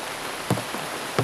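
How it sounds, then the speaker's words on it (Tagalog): Heavy rain pours down as a dense, even hiss filling the whole moment, broken by two brief low knocks. "napakalakas ng ulan"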